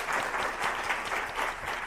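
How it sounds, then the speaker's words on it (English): A live audience at a university talk on online learning claps in a steady round of applause that fills the short stretch at even, moderate loudness with no voices. "Round of applause."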